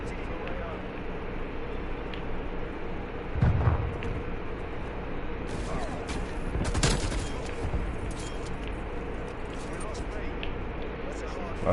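Gunfire in Call of Duty Cold War, with bursts of shots and distant rattling fire scattered over a noisy match, while a player talks over it.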